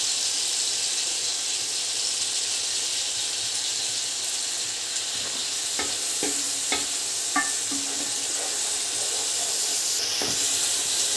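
Coriander, mint and onions fry with steady loud sizzling and hiss in a pan for chicken biryani, with occasional clinks and scrapes of stirring partway through.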